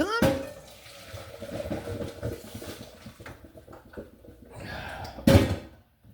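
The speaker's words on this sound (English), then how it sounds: "I got my drainer here. It's got little holes so the water goes through." Water from boiled spaghetti pours through a holed metal drainer in a home kitchen, a soft running splash with clattering handling sounds and a sharp knock near the end.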